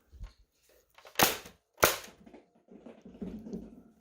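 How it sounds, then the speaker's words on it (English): Two sharp blasts from a pair of X-Shot Chaos Orbit toy blasters bolted together fire in quick succession, loud and close, framed by soft handling clicks and rustles. "now that I've got 2 of them bolted together, you can just have 2 shotgun blasts ready to go"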